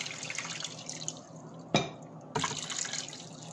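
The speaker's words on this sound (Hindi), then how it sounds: "अब इसमें चार कप पानी ऐड करेंगे।" Four cups of water poured into a cooking pot of beef for rice and mung dal, a close splashing burst, then a pause and a second burst of pouring, with faint kitchen background.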